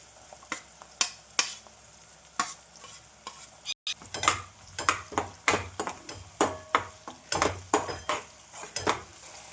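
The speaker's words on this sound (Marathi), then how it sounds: "तेल गरम झाल्यानंतर जिरे टाकायचं, नंतर कांदा टाकायचा, नंतर मिरची टाकायची" Cumin, onion and chili fry in hot oil as a spoon clanks repeatedly against the pan, sharp regular metal strikes over a continuous sizzle, close and loud throughout.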